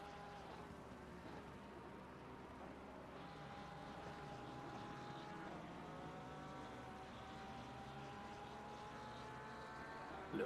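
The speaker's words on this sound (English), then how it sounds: "Flying helicopter there over the trees" A helicopter flies over the trees beside the Spa-Francorchamps circuit in the racing sim Assetto Corsa Competizione, making a faint, steady droning hum that holds for the whole stretch with no clear rise or fall.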